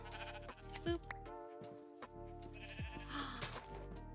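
Sheep in the video game Minecraft give a couple of bleats over layered game music, moderately loud and close, with a brief bit of speech.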